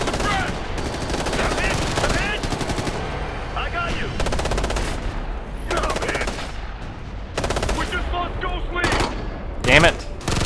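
Machine gun fire in the shooter Ghost Recon Future Soldier: loud, rapid automatic bursts in repeated strings with brief gaps between them, plus scattered battle noise.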